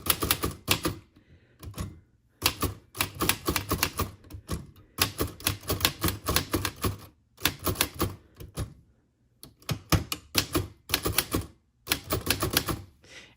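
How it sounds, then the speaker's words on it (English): Slow, uneven two-finger typing on a vintage manual typewriter, heavy key strikes in bursts separated by short pauses, close and clear with no talking. "And yes, I am typing with 2 fingers."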